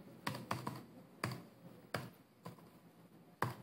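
A computer keyboard is typed on one-handed, with sparse, uneven key clicks. Single taps and short bursts sound close and crisp against a quiet room background.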